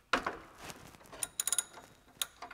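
Quiet mechanical clicks and ratcheting from a 17 mm socket wrench removing a sensor on a Honda Civic FL5, sparse irregular ticks and short ratchet bursts, close but faint.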